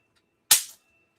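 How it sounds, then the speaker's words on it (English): A snap firecracker thrown at the ground pops once, a sharp, bright crack that decays quickly in an otherwise silent room. "Those things those firecrackers that you throw at the ground, they snap."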